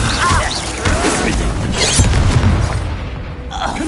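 A Confringo fire spell blast in Hogwarts Legacy, heard as booming, crashing explosion bursts layered with other game effects, loud and dense throughout.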